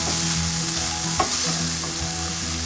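Shredded chicken stirred into sautéed vegetables in a hot pan gives a continuous close sizzle with scraping stirs and one brief knock, with no talk.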